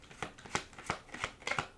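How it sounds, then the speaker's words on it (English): Tarot deck riffled and shuffled by hand in a handful of quick, close papery bursts, each a short crisp flutter of cards, with no talk over it. "Hold on, let me just finish shuffling here."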